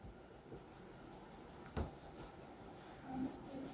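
Pen or pencil writing out a math fraction solution by hand on paper, faint scratchy strokes with a brief tap and scribbles, close and quiet.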